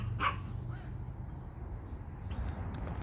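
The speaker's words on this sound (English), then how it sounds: "my dogs were barking at a crow" Dogs bark and yip at a crow in a backyard garden, a short sharp bark near the start followed by quieter whimpering and rustling over a low steady background hum.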